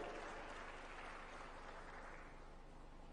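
Conference audience at a summit of African heads of state on human resources applauding as a speaker comes on stage, a dense continuous sheet of clapping, heard faintly from a distance and easing slightly near the end.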